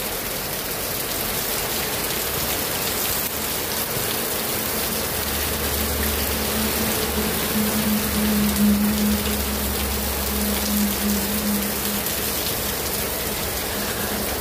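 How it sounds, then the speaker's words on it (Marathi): Heavy, cloudburst-like rain pours steadily at Madhewadgaon in Shrigonda taluka, Ahmednagar district, near a poultry farm. It makes a dense, continuous, close roar with a low rumbling undertone through the middle stretch, and no voices are heard. "तुफान पावसाची बॅटिंग चालू आहे मित्रांनो."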